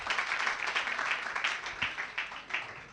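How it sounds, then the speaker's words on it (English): Applause for a student debate speaker at a girls' senior high school debate contest, steady dense clapping from an audience filling the hall for the full three seconds. "A round of applause for her."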